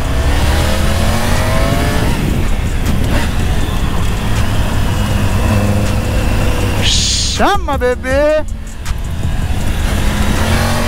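A new motorcycle's engine hums and revs steadily while being ridden, with a sharp whine and a burst of rising and falling tones near the end as someone shouts briefly over the ride.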